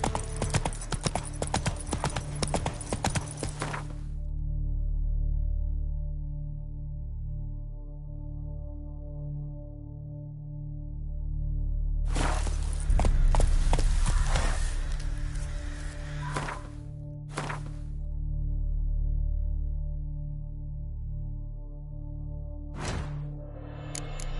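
Roach, the horse in The Witcher 3, gallops with rapid, rhythmic hoof clip-clops in bursts separated by stretches of low ambient game hum, loud and close.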